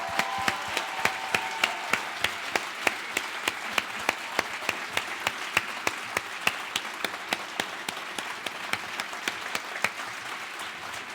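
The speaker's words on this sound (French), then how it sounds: "j'aimerais bien que vous les applaudissiez, c'est-à-dire les services CTA et les services support." A seminar audience applauds the support teams in a steady burst of clapping that gradually falls into a rhythmic, unison beat of sharp claps, loud and sustained throughout.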